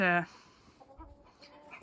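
A large white Canadian-breed hen in a barnyard gives a loud, brief clucking call at the start, followed by quieter farmyard sounds.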